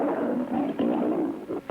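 A lioness gives a low, rumbling warning roar at a porcupine in the wild, a sustained growl lasting nearly two seconds, moderately loud and close.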